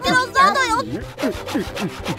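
A saw cutting wood in an animated cartoon gives four rhythmic, rasping strokes, loud and close, right after a brief high, voice-like warble.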